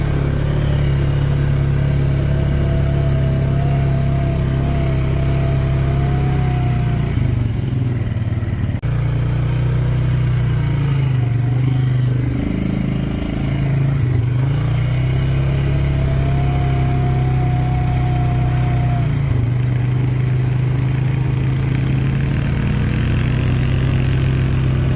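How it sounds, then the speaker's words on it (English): An off-road vehicle engine works through throttle on a hill in a burned area, a loud, continuous drone that holds steady with brief dips and surges throughout. "I told Kelly she needs to get in the throttle when she sees a hill."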